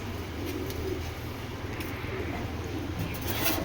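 A foreign racing pigeon gives soft, repeated low coos over a steady background hum, close by and fairly quiet.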